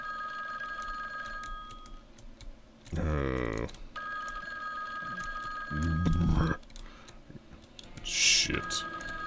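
A telephone rings repeatedly in a horror video game set in a house, with bursts of ringing over an ambient hum and scattered clicks.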